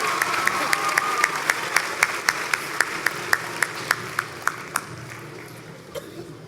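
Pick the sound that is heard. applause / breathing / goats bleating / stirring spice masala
applause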